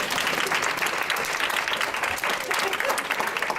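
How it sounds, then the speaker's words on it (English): Audience at an academic symposium on critical feminist thought breaks into loud, sustained applause, dense clapping filling the room for several seconds with voices mixed in. "give them a round of applause"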